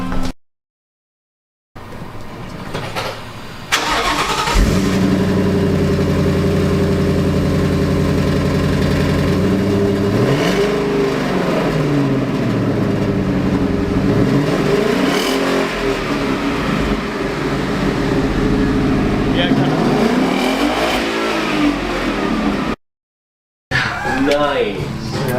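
A 2017 Ford Mustang GT V8 with an H-pipe exhaust cranks, fires up and settles into a deep rumbling idle, then revs up several times in rising and falling swells. It is loud and close, with brief gaps of silence at the start and end.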